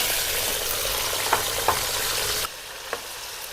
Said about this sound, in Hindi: घी हो गया हमारा गरम। तो अब इसके अंदर डालते हैं जी चिकन।